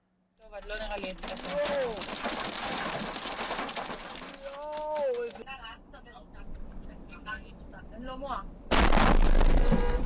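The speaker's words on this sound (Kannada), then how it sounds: "ಇದು ಇಸ್ರೇಲ್ ಒಳಗೆ ನೋಡಿ ರೋಡ್ ಸೈಡ್ ಬಂದು ಬೀಳುತ್ತೆ ಒಂದು ಬಾಂಬ್" Agitated voices over a rushing, crackling din, then a sudden loud, sustained blast near the end that swamps everything as a bomb explodes in open ground beside a highway in Israel.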